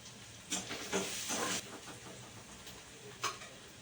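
Chopped onions fry in oil for egg noodles, a faint, low hiss broken by several short, louder sizzling bursts that fade back down.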